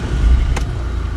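A car engine rumbles close by for a brief moment, a low steady motor drone with a short higher burst partway through.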